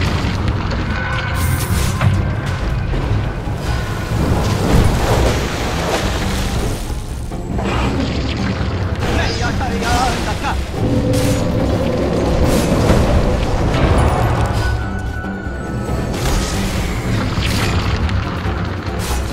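Dota 2 match with a tower under attack, dense repeated explosion booms and impacts layered with game effects and music in a continuous loud barrage.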